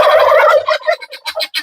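A turkey in a coop lets out a loud, close gobble, a rapid warbling burst that breaks into short choppy pulses, with no talk.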